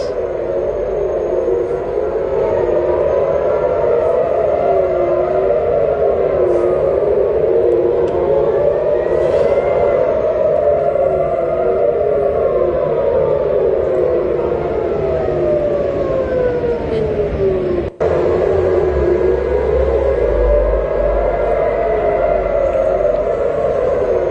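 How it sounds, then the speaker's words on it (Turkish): Air raid sirens wail continuously over Tel Aviv, Israel, their pitch rising and falling in long overlapping sweeps, loud and sustained, with a brief sharp click partway through. "Tekrar sirenler çalıyor."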